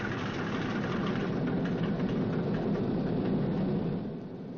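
A newly fitted B-29 bomber engine running roughly after start-up, a steady loud broadband roar with faint uneven pulsing that eases off slightly near the end.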